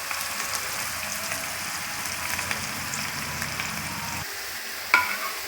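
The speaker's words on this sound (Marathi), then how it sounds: "तर हे बघा चांगलं परतून द्यायचं मस्त खोबऱ्याला तेल सुटेपर्यंत" Grated fresh coconut sizzles as it is sautéed in oil in a pan for coconut chutney, a steady close frying hiss with scraping stir strokes, ending in a sharp clink of the utensil against the pan.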